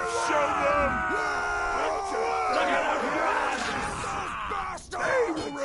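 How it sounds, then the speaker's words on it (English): Soldiers in the Bannerlord 2 video game cheer and yell together as a loud, sustained crowd roar with overlapping shouts and rising calls throughout, with a brief dip near the end. "I love the sound of them cheering is great."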